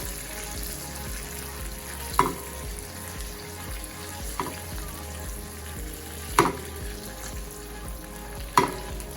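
Salmon coated with garlic and parmesan fries steadily in a pan, a continuous sizzle broken by a few sharp clinks and scrapes of a spoon against the pan.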